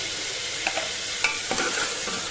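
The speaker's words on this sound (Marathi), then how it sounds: "चांगलं परतून घ्यायचा कांदा, छान तेलात मऊ करून घ्यायचं" Onion with tomato and curry leaves sautéing in oil makes a continuous close sizzle, broken by a few light spatula scrapes and taps during a brief burst of stirring.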